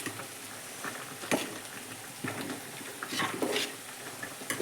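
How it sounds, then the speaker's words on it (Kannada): Sorghum grits (jowar nuchu) boil in a pot with a steady, soft bubbling and faint popping, a close, low-level simmer with no voices. "ಮಸ್ತ್ ನಮ್ಮದು ನುಚ್ಚು ಕುದಿಯಾಕತ್ತೈತಿ"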